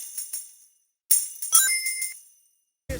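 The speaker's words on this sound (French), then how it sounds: "on va partir de cette clochette. Ensuite on va rajouter une petite reverb et un petit ping-pong delay" A small bell sample treated with reverb and ping-pong delay rings out in bright, tinkling strikes whose echoes bounce and fade away in short bursts, with a brief low thump at the very end.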